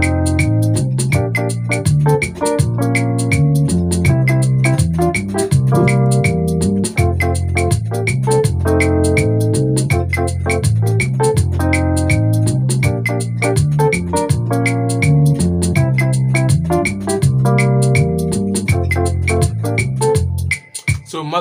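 Highlife music loop played on a keyboard and spiced up with passing notes and chords, a steady full-bodied groove with chord changes running continuously, loud and with no talking.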